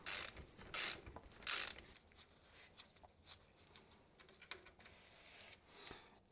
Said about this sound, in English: I'm going to take apart the blades first, these bolts here